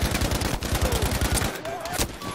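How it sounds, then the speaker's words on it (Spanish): Rapid automatic gunfire in Battlefield 5 on the Lofoten Islands map, a loud, dense burst of evenly spaced shots for about a second and a half, then scattered single shots and game effects, with a voice talking over it. "Y le di un montón de disparos en su cabeza, men."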